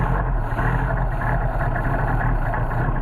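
A cold engine fed by a Solex 44PHH carburetor, running on 30 weight oil in extreme cold, holds a steady low idle, loud and close, with no talk over it.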